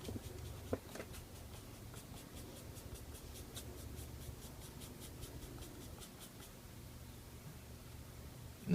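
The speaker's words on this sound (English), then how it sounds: "And let me erase some stuff here. I got a kneaded eraser." A kneaded eraser rubs over drawing paper in a steady run of soft, rapid strokes, close and quiet, with faint papery scratching repeating through most of the stretch and no talk.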